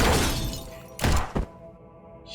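A Gale Grenade going off in the turn-based game Tactical Breach Wizards, a loud blast that fades, then two sharp heavy thunks about half a second apart, ringing out and leaving quiet.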